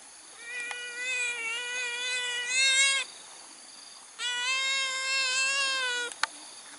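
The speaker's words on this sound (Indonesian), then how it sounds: "kok ada kucing?" A cat meows in a forest, two long drawn-out wailing calls separated by a short pause, close and clear over a quiet outdoor background.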